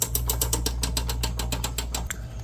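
A sausage stuffer being cranked for venison sausage gives a fast run of ratcheting clicks over a low mechanical hum, even and loud, stopping abruptly near the end with no voices.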